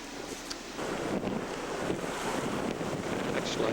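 Wind buffets the microphone and waves wash in steadily on a cold beach, a constant rough roar with no voices.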